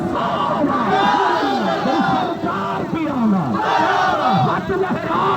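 A large crowd at a 12 Rabi ul Awal religious procession roars the chanted response to the slogan "Naara-e-Takbeer" in unison, loud and sustained, with overlapping shouting voices throughout.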